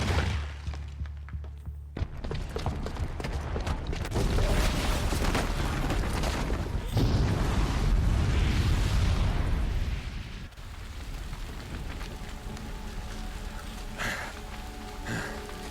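A bomb rigged with a booby trap goes off in Horizon Zero Dawn as a loud, rumbling blast. Crackling debris and a long roar trail after it and fade into a lower, sustained din.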